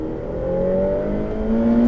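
A Ferrari F8 Tributo accelerates on the Le Mans Maison Blanche track, its engine note climbing steadily in pitch over two seconds, loud and close, with no talk over it.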